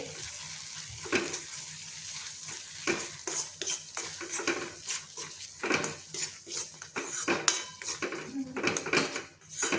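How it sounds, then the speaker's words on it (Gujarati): A metal spoon stirs yogurt into dum aloo in a pan, scraping and clinking against the sides in quick, uneven strokes that continue close and clear with no talking. "દહીં નાખ્યા પછી આપણે બરાબર હલાવવાનું છે."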